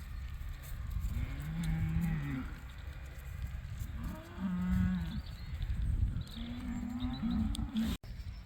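Cows on a farm being moved between pastures, with several loud, drawn-out moos rising at intervals over a steady background rumble, fairly close by.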